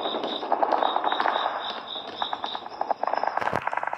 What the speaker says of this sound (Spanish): ¡Ya se oyen los disparos a lo lejos!